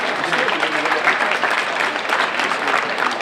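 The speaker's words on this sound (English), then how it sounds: "Let's give them another round of applause." A school assembly audience applauds students after a Black History and gun violence program, dense steady clapping filling the hall for a few seconds without voices.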